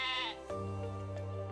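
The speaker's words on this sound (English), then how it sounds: "A herd of many sheep creates a pastoral scene." A sheep's bleat stands out over a grazing flock in a field, a wavering, strongly harmonic call at close range that breaks off at about half a second, then gives way to a steadier bleating tone.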